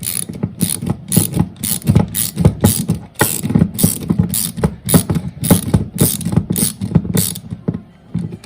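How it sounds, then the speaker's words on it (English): A ratchet tightens a nut on a Razor Crazy Cart caster, with quick bursts of sharp clicking pawl strokes repeating in a steady rhythm, loud and close, with no talk. "Tighten the nut, and that's it."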